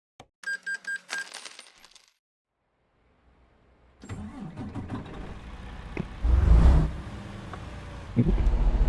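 A Western Star 49X truck engine in American Truck Simulator, just swapped, cranks and fires after a few dashboard chimes and a pause, then settles into a deep idle with a louder rev surge near the end.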